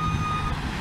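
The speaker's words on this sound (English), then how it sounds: "Come on, dump truck. Let's go." A dump truck's reversing alarm gives a steady high electronic beep over a low engine rumble, close and loud, with no one talking.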